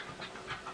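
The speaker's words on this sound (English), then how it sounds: "She's a crazy dog." A dog pants in short, quiet, rapid breaths, a soft rhythmic huffing heard close by with nothing else going on.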